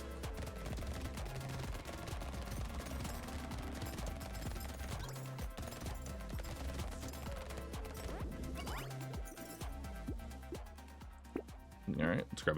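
Rapid SMG gunfire from the video game Brotato crackles in dense, continuous bursts, layered with game effects and music throughout.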